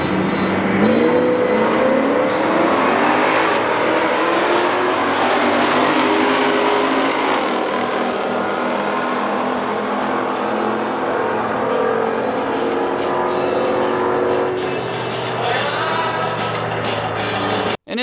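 A 1969 Dodge Dart GTS and a 1969 Chevrolet Nova SS in a factory stock heads-up drag race, engines roaring loud and steady at full throttle down the strip for a sustained run.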